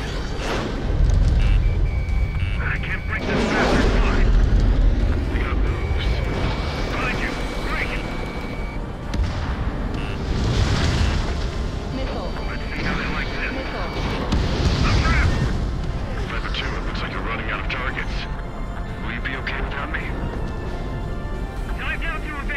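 Missile blasts and booming explosions from the Ace Combat 7 flight game played in VR come in several heavy, rumbling bursts over steady jet noise, with radio voices talking over the action.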